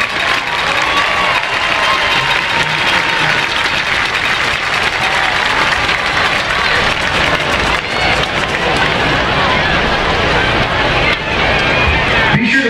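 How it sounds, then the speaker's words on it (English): Crowd applauding and cheering in the stands at a high school football game, Wichita Falls Coyotes vs. Rider Raiders, a loud, dense, steady wash of clapping and crowd noise lasting throughout. "Let's give Norman and Ivory a round of applause."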